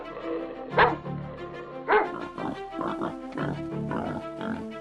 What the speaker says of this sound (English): A pack of dogs stays on high alert as danger approaches